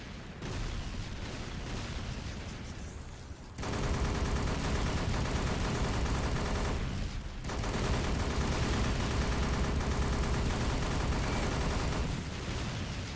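Turret gunfire in The History Channel: Battle For The Pacific: long sustained roars of rapid automatic fire, loud and close, broken by two short pauses.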